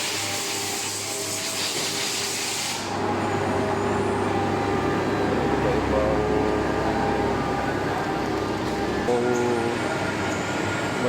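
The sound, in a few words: CNC machines in an airgun barrel factory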